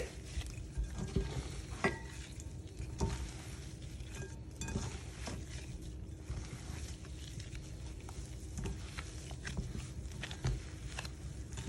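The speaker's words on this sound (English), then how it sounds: "the squeezing method, as I'm kind of grabbing it and squeezing it through my hands, it's helping to really incorporate everything" Hands squeeze and mix a sticky meatball mixture with egg and breadcrumbs, making soft, irregular squishing and squelching sounds at close range, fairly quiet, with occasional light knocks against a bowl.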